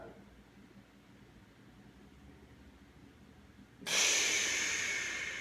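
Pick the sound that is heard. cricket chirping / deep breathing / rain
deep breathing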